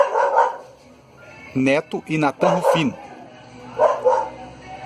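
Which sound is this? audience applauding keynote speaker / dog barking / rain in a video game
dog barking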